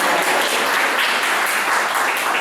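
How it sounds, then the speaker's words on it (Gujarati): A church congregation at a Sunday service claps together, loud dense continuous clapping filling the space from start to end with no pauses. "તાળી પાડીને"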